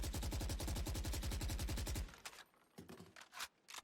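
A rifle in a first-person shooter game empties a full 30-round magazine in a continuous automatic burst lasting about two seconds, loud and close, followed by quieter clicks and scrapes.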